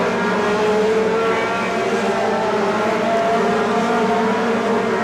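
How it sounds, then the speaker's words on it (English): Open-wheel NEMA Lites race cars run at Seekonk Speedway during a Wednesday night race, a dense, steady engine drone of several cars close by for a few seconds, with no talk. "to try and get around Scally here in the second half of the race"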